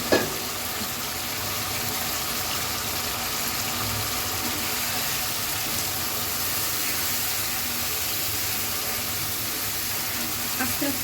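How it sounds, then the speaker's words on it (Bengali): Baim fish and potatoes sauté in a pan, a steady close sizzle and fry hiss running throughout with faint stirring scrapes. "মাছগুলো দিয়ে ভালো মতন কষিয়ে নিব।"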